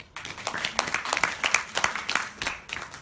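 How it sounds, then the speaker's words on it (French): A French game-show studio audience applauds its day's champion, a dense, steady burst of clapping lasting a few seconds at moderate loudness with no talk over it. "On peut l'applaudir bien fort."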